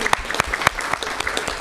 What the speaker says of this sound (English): So really, they deserve a round of applause.